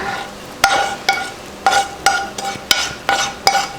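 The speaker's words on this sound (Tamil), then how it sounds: "சேர்த்துட்டு கிண்டி விட்டுறலாம்" A spoon stirs rava halwa in a pan as caramel is mixed in, making about eight sharp scraping knocks at a steady, brisk rhythm, close and fairly loud with no talking.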